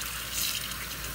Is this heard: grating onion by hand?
no